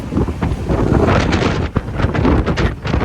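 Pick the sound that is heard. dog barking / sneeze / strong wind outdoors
strong wind outdoors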